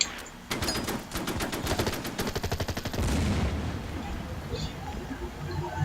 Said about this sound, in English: I'm going to attack with the tank first to weaken them a bit